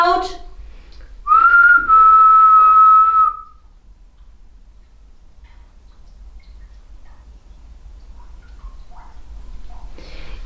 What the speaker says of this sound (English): Copy my whistle, please.